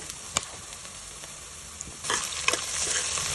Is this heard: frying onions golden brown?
yes